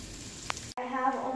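Spam and chopped veggies hit a hot skillet and break into a steady, close sizzle right after a brief dropout.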